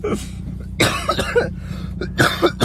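A person recovering from a cold coughs several times in quick close bursts, with throat clearing between them and a faint low engine hum beneath.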